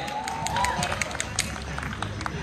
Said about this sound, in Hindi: जोरदार तालियां आंसर के लिए बजाओ यार